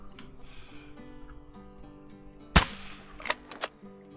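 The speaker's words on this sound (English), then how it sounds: "I really want to try out the air rifle on the warthog." A .45 air rifle fires a single sharp, loud crack at a warthog, followed by a couple of fainter smacks and clicks, over a quiet outdoor background with no talk.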